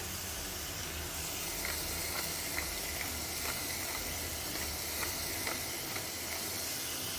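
Italian sausage browning in a pot for a chicken and sausage stew, giving a steady, even sizzle and hiss throughout, with a few faint pops and no talking.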